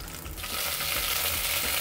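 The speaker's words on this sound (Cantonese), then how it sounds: "咁然後咧薑片放落去，煮香咗啲薑片先。" Ginger slices and spring onion hit hot oil over medium heat, bursting into a loud, continuous sizzle that swells after a quiet start and carries on steadily with no talk.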